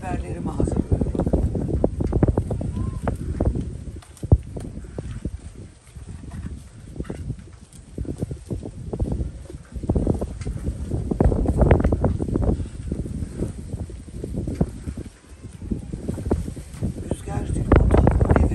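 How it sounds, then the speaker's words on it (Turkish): Strong wind blows outdoors in a garden, roaring and buffeting the microphone in loud continuous gusts across the whole stretch. "Rüzgar tripodu devirdi."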